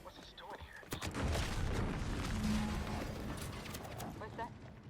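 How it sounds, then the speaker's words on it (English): An explosion in the video game Outer Worlds 2: a sudden sharp blast followed by a sustained roaring, crackling rumble, with game voices talking over it. "What's that? An explosion?"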